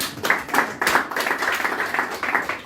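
Restaurant diners clapping for the evening's performing artists at a lively dinner party, a small group's uneven, separate hand claps close by with some rhythmic bunching.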